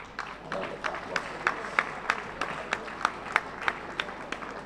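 An audience at a retiree bond award ceremony claps in a steady rhythm, with evenly spaced loud claps standing out over a continuous wash of applause and crowd noise.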